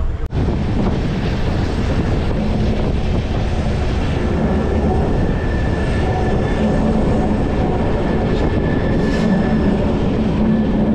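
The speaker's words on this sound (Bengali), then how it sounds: "এবার কিন্তু ডিজেল ইঞ্জিন আমাদের নিয়ে যাচ্ছে এই কোচটাকে টেনে" A passenger coach hauled by a diesel locomotive, heard from on board as a steady, loud rumble and rattle of wheels on rail, continuous throughout with no talking.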